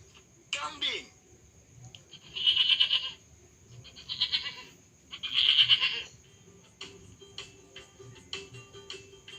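A goat bleats in three drawn-out, fairly loud calls spaced a second or two apart, with people talking and a voice around them.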